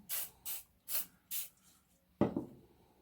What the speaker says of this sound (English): spray with some WD,